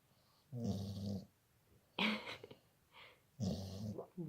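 A female dog snores in three loud rasping bursts, each drawn-out breath separated by quiet pauses, close to the listener with no talking over it.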